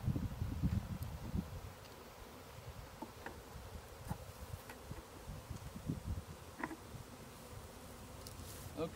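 A honey bee swarm being captured into a hive drones in a dense, steady buzz close by, with brief louder rustles and rising notes as individual bees pass near.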